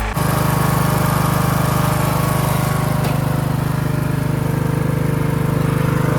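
A rebuilt 18.5 hp single-cylinder engine on a hydrostatic LT2000 lawn tractor runs steadily and loudly close by, a constant low throbbing drone with no pauses.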